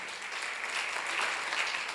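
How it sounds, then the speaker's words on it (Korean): Applause at a church seminar in Korea, a soft, distant wash of clapping from the congregation that swells slightly midway. "박수를 하세요"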